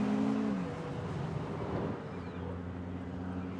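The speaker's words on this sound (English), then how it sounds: "Ferrari have spent a really long time making sure that this engine sounds like a proper" A Ferrari V6 hybrid engine drones steadily with a brief rise in pitch, heard from inside the cabin at moderate volume.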